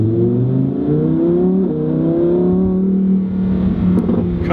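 A Lamborghini Huracan Performante engine while driving on the road, a loud, steady droning roar with rising and shifting pitch as it pulls through the gears, close and continuous with no talking.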